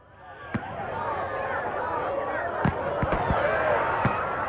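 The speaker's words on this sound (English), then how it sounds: "Time to do some fireworks for some mage points." Fireworks pop in the video game Dragon Age: Inquisition, a handful of sharp isolated bangs spaced irregularly over a busy crackling game backdrop, with a voice faintly present.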